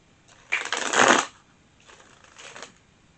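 Two quick bursts of tarot cards being shuffled, the first louder and riffling, the second softer and shorter, in an otherwise quiet room.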